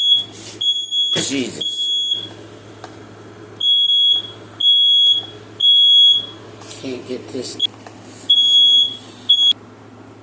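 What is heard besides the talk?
smoke alarm beeping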